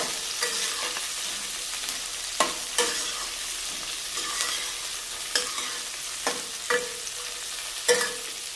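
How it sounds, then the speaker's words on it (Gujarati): Onions cut into large chips, cashews and slit green chillies frying in ghee, a steady close sizzle broken by sharp stirring scrapes roughly every second, with no talk. "તો આ રીતે આપણે પેલા ડુંગળી અને કાજુ અને મરચાં સરસ રીતે સાતળી લેવાના છે ઘીની અંદર"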